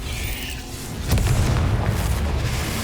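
A Confringo fire spell explodes in the Hogwarts Legacy video game, a single deep boom about a second in that swells and lingers as a rumbling roar over steady background game ambience.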